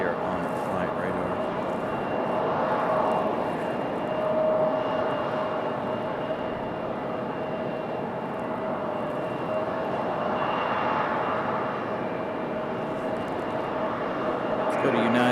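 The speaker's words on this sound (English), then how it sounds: "that Delta CRJ, yeah, probably headed to JFK or LaGuardia" A Delta CRJ regional jet departs Raleigh Durham airport, its engine roar steady and moderately distant, swelling and easing in broad waves over a continuous broadband rumble, with some talk over it.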